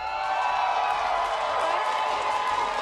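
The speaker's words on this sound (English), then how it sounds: "Who else is out here cheering on the Gladiators in this battle?" A crowd at an esports match between the Gladiators and the Valiant cheers and claps in a large arena, a dense steady roar of voices and applause that holds at the same level throughout.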